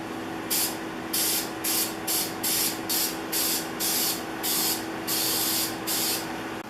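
Spray paint hisses from a can onto plane parts in a paint booth, in about ten short, evenly spaced bursts over a low steady background hum.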